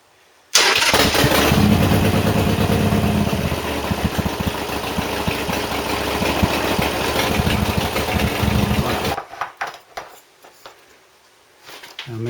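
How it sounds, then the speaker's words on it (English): A Harley-Davidson Sportster motorcycle engine cranks and fires during a 5,000-mile service, then idles loud and close with a steady rumbling throb for several seconds before it is shut off, leaving a few faint clicks. "fire it up, run it just for 10-15 seconds, run the oil around the engine, fill the filter up"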